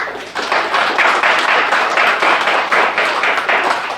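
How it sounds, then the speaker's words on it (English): Round of applause for volunteers at a Calgary Vietnamese Canadian Association gathering, loud, close, continuous clapping with a rhythmic, pulsing texture and no talk over it. "So a big round of applause for all the volunteers."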